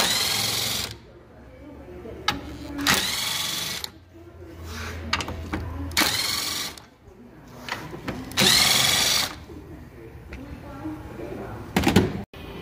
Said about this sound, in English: Now you got four 10 millimeter head bolts on the top of the grill to take off.